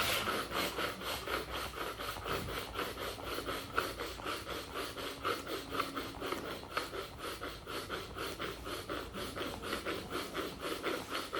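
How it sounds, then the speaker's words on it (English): Hands rubbing and massaging during a yoga and breathwork session: a steady, rhythmic brushing and rasping of skin on skin, repeating quickly and evenly, soft and close, with faint breathing underneath. "So massage your sides of your hand like this."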